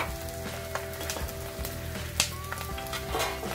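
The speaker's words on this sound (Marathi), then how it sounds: "बघा आपला डिंक कसा फुललाय तुपामध्ये" Edible gum pieces fry and puff up in hot ghee, a soft steady sizzle with scattered small pops and crackles, close and fairly quiet, with no voices.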